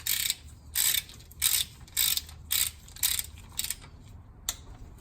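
A torque wrench tightens the cylinder head bolts on a 1995-2000 Honda Civic during a head gasket job, giving a run of about nine short ratcheting bursts at an even pace, close and clear with no talk.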